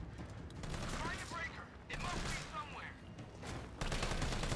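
Bursts of rapid assault rifle fire in Resident Evil 3 Remake rattle out repeatedly in quick volleys, fairly quiet overall, with short pauses between bursts.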